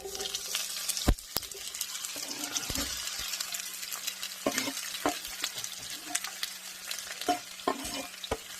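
Sliced bell peppers fry and sizzle in a hot pan turned down to medium, a steady crackling hiss with sharp scrapes and clicks as a utensil stirs them, close and alone with no talk.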